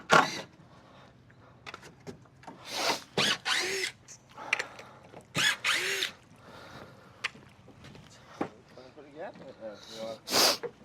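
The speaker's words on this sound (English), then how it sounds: "No, I still got to drill." A power drill bores into composite wood boards during a DIY dock repair, sounding in several short, loud bursts with people talking between them.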